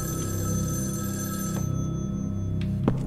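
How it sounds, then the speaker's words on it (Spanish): An old-style telephone bell rings inside the horror video game Evil Inside, a steady rattling ring over a low droning game ambience, fading partway through before a faint clack. "Está sonando el teléfono."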